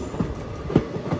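Nagarsol Superfast Express 12787, hauled by a WAP-4 electric locomotive, rolls along with low rhythmic wheel thumps and rail clatter, heard close from inside the last coach, with no voices.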